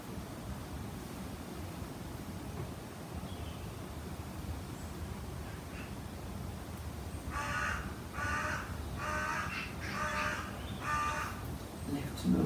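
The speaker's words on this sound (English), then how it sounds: "serenaded by a crow. I presume it's a crow." A crow caws five times in a steady rhythm, fairly clear over a low rushing background of wind or distant surf, with no voices during the calls.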